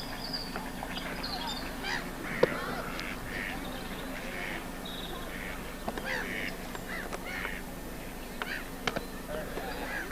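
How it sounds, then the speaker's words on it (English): Ducks and swans call near old church ruins in rural Ireland in April, with scattered quacks and honks over steady outdoor background noise and occasional sharp knocks. "Ducks and the swans."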